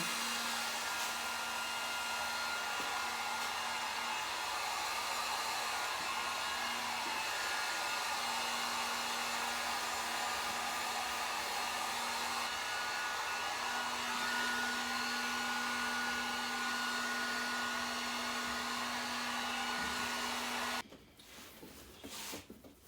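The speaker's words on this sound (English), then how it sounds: "Now I'm going to take a heat gun." A heat gun runs steadily while smoothing wrinkles from a Chevrolet GMC seat cover, giving a loud, even blowing hiss with a faint whine that continues for about twenty seconds before cutting off abruptly.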